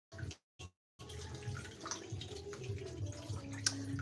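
Tomatoes washed under a running kitchen tap, with two short splashes, then a steady stream of water with light clattering, close and fairly quiet.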